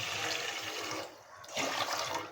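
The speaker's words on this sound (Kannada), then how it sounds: "ಗ್ಯಾಸ್ ಮೇಲೆ ಗ್ಯಾಸ್ ಬೆಂಕಿ ಹಚ್ಚಿ ಈ ಹಂಡಿ ಇಟ್ಟು ಹಂಡಿಗೆ ನೀರು ಹಾಕಿತ್ತು" Water pours steadily into a cooking pot set on a lit gas stove, a continuous splashing gush with a brief dip midway before the stream resumes, close and fairly loud.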